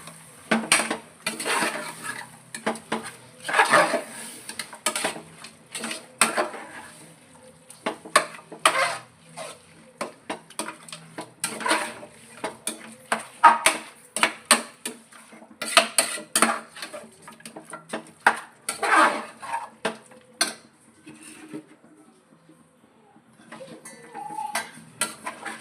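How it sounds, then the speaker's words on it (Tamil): Chicken being stirred in a pot for a home-cooked chicken biryani, with repeated scraping and clattering of a spoon against the metal pot in irregular bursts, fairly close and steady with brief pauses. "சிக்கன் வந்து சிக்கனை போட்டு நல்லா கிண்டிடுவோம்"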